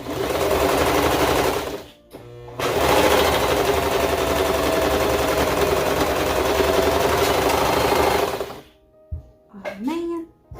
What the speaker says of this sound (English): so now you're going to serge right here and right here. Or you can zigzag stitch if that's what you got.